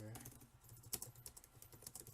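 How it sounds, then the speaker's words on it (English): Rapid typing on a computer keyboard, a steady run of close, crisp key clicks with one sharper hit near the middle and a low hum underneath. "You can make fun of my typing speed, but I don't care."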